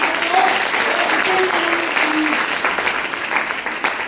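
Audience applause at a talk, a dense, continuous patter of many hands, with faint voices or tones briefly audible within the clapping.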